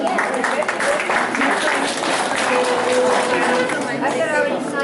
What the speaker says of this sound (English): Yes, let's give him a round of applause, would you please?